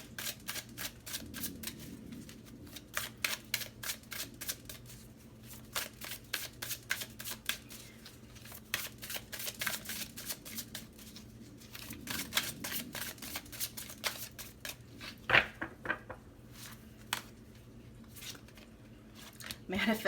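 Tarot cards being shuffled by hand, with rapid, close riffling bursts and slaps repeating in an irregular rhythm for the whole stretch and a voice speaking softly underneath.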